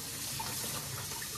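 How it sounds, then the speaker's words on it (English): Tap water runs into plastic bags of salt-cured bacon to rinse off the salt, a steady close splashing and hiss with no talking. "So I'm just running some water in these bags and we're gonna wash off the salt, rinse it off,"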